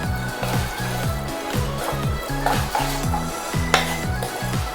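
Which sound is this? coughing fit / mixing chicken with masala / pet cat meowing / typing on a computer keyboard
mixing chicken with masala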